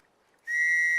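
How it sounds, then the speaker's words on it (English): A rape whistle blown in the survival game Stranded Deep gives one loud, steady, shrill tone that starts abruptly and holds for about half a second. "Let's blow a rape whistle."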